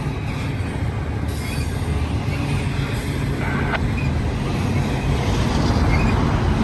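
A freight train rolls past on the line toward Cajon Pass, a steady heavy rumble of wagons with faint wheel squeals and a brief metallic screech, continuous and fairly close throughout.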